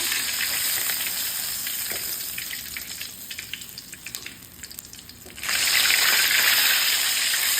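Fish fries in hot cooking oil with garlic, a steady close sizzle that softens midway and then surges louder again, with no talking.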